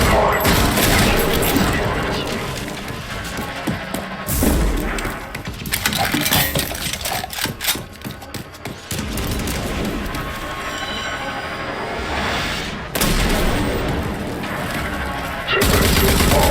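Automated turret gunfire in the video game Rage 2, dense bursts of rapid shots with metallic clinks and clatter, loud and sustained across the scene with brief lulls between volleys.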